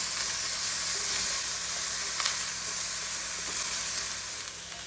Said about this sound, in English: we're going to add some crushed peppers. Just going to mix it up.